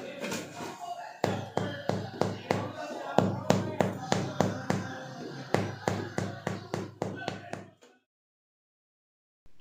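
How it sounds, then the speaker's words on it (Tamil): Freshly baked bread is tapped on its underside, giving a quick run of about twenty close, hollow knocks in an uneven rhythm that stops abruptly, leaving silence at the end. "அதோட பேக் சைடில் தட்டி பார்த்தீங்கன்னா நல்ல ஹாலோவாக சவுண்டு வரணும்"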